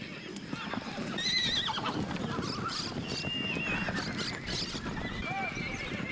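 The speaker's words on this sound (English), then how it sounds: "They have to herd 700 horses that were grazing freely out in the fields." A large herd of free-grazing horses in the Pantanal marshes neighs and whinnies repeatedly while hooves clop and thud underneath, a busy continuous mix at moderate distance.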